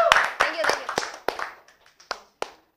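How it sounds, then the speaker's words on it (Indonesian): Applause for Epi comes from a small group, a handful of sharp hand claps that thin out into a few scattered, separate claps before stopping. "Tepuk tangan buat Epi nih"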